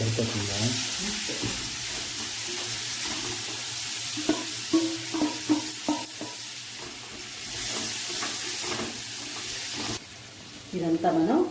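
Paneer pieces frying in a pan of masala while being stirred: a steady sizzle throughout, broken by scraping stir strokes and spoon knocks, with a voice speaking briefly over it.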